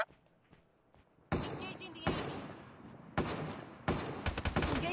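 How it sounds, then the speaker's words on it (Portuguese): Sharp, loud sniper rifle shots in Call of Duty Mobile ring out several times at irregular intervals, each a sudden blast trailing off, after a quiet start. "Eu dei 5 tiros de sniper nesse cara, velho."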